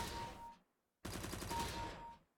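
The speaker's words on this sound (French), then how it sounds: "j'essaye de tirer que 6 balles" Two rapid automatic rifle sprays in CS:GO, a short burst of about six rounds followed after a pause by a longer burst, each shot crisp and evenly spaced.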